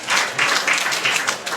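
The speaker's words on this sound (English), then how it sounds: "If you can hear my voice, clap 5 times." An audience claps in unison, with about five distinct rhythmic group claps in a quick burst, fairly close and loud.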